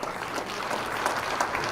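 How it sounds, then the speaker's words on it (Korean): Warm, continuous applause fills an auditorium at a blockchain technology demonstration event, a dense wash of many hands clapping at moderate volume throughout, with a few louder claps near the end. "여러분 다시 한번 뜨거운 박수 보내주시기 바랍니다."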